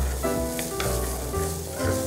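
Food frying in a pan while being stirred, with a steady close sizzle and soft scraping of the spatula, no talking.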